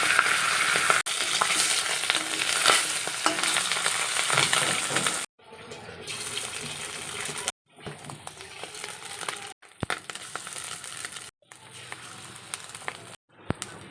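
Fish roe frying in a hot wok, a loud continuous sizzle at first, then broken into bursts of spitting and stirring separated by short silent gaps.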